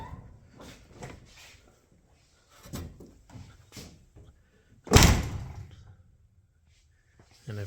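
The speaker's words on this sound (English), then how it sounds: "close the door" A car door on a Mopar A-body slams shut once, a loud sharp thump after a stretch of quiet handling noises and faint scraping, with a small knock at the end.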